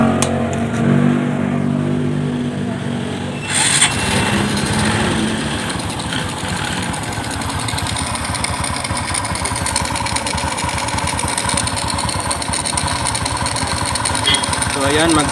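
Honda Wave 125 motorcycle, about 17 years old, running with its air filter off after a piston ring replacement; a steady close engine drone with a rapid buzzing rhythm after a rough start, and someone talking over it.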